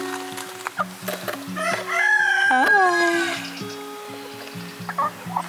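Chickens near a homestead coop in Portugal, a rooster crowing loudly and close over steady, rhythmic clucking from several hens.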